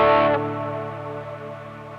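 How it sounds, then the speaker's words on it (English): An electric guitar played through a Line 6 HX Effects unit with layered reverbs: a bright struck chord rings out, then its reverb tail lingers and slowly fades over about two seconds. "this is the reverb with the 2 different reverbs attached to it"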